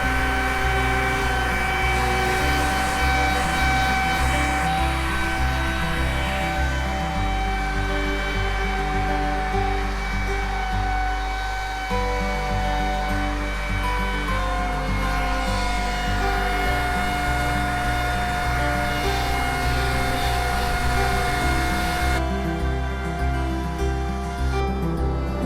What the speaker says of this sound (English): got this new blow dryer because my other blow dryer broke